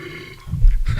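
A single short, loud, low guttural burp with a throaty rumble, taken slightly away from a studio microphone.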